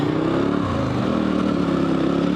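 A dual sport motorcycle on Heidenau K60 Scout adventure tires churns through sand, its mid-pitched engine droning loud and close with a steady, labored note and some rattling.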